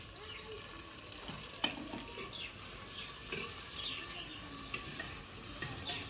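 Tomatoes and green chilies fry with browned onions in a pan, giving a soft continuous sizzle with occasional stirring clinks and scrapes, quiet and close.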